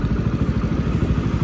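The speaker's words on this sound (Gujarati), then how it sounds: "દેખી લો અમારા ભાઈબંધ બાઇક ચલાવી રહ્યા છે" A motorcycle being ridden, its engine giving a close, steady, rapid low chugging pulse with a slight rattle.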